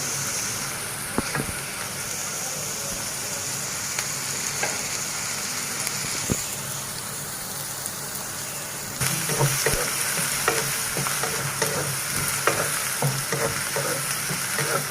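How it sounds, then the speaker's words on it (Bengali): Onions frying in a pan until light brown, a continuous close sizzle with intermittent scraping taps of a spatula stirring, growing slightly louder and busier partway through. "আমি পেঁয়াজটা হালকা বাদামি কালার করে"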